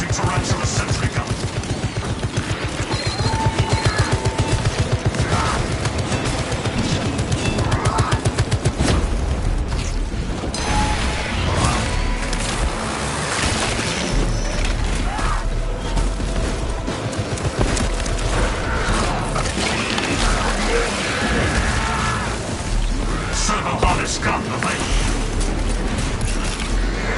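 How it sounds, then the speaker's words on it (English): A Tarantula sentry gun fires in the video game Space Marine 2. Rapid, sustained bursts of automatic fire run through the whole stretch, mixed with heavy booms and mechanical clatter in a dense battle din. "Activating Tarantula sentry gun."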